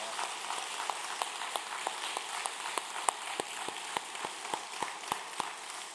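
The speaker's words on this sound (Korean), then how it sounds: "박수로 한번 목사님 인사하겠습니다" Clapping from a church congregation during a revival service, with soft overlapping claps and sharper individual claps at a steady rhythm, moderately distant and without talk.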